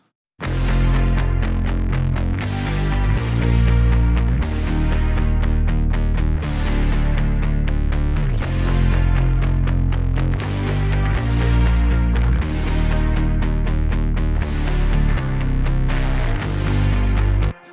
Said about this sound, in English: I really like those like kind of more aggressive, bitey bass sounds that are happening there